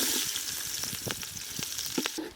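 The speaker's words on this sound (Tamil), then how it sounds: "அறுக்கின வெங்காயத்தை போட்டு வதக்கும் வாங்க." Chopped onions sautéing for vegetable pulao in a village kitchen, a steady close sizzle with scattered crackles and stirring knocks running throughout, no voices.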